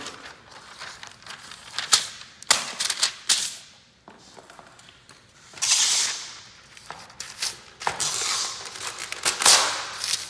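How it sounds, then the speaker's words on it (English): A 3M hand masker pulls painter's tape off its spool in bursts of crinkly tearing and rasping, broken by taps and short gaps, close up and with no talking. "this is the 3M hand masker with this same tape on the spool"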